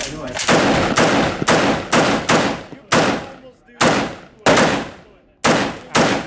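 Loud gunshots at an indoor shooting range, about nine sharp blasts in irregular succession with reverberant tails, some shots coming close together, with faint voices in the background.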